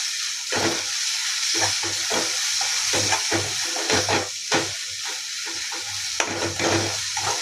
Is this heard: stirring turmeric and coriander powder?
yes